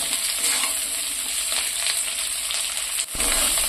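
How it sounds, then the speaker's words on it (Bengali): Onion and capsicum pieces sizzle in a little oil as they are stirred, a dense, close crackling hiss with a brief dip near the end before the frying noise resumes. "এগুলো একটু তেলের মধ্যে নাড়াচাড়া করে নিচ্ছি।"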